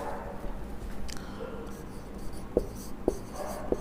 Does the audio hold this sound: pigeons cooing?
no